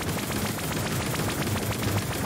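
A boss unleashes its big blast attack in the action roguelike ANVIL: Vault Breakers: a dense, loud, sustained barrage of rumbling gunfire-like bursts with rapid repeated impacts throughout, no talking.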